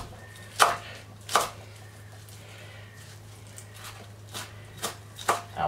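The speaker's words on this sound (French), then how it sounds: "Plus c'est fin, plus vous gagnez du temps après pour le hachage" A sharp knife chops raw beef on a cutting board for steak tartare, with a few separate, irregular thuds standing out clearly against quiet surroundings.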